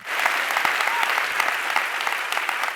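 Audience clapping steadily at a spiritual discourse on Shrimad Rajchandra, a dense, even wash of many hands filling the room for a few seconds with no voices over it.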